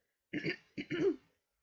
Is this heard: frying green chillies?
no